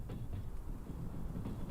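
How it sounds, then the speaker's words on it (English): A train in the Trans Siberian Railway Simulator video game rumbles past steadily at moderate distance, a low, continuous rolling drone with faint rhythmic clatter. "I hear a train."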